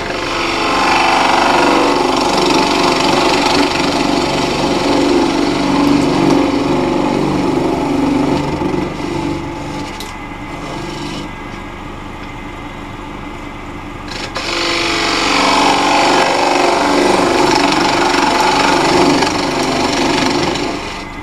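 A scraper cuts wood spinning on a lathe while shaping a one-piece coffee scoop, a loud, continuous whirring grind that eases off for a few seconds midway and then returns at full strength.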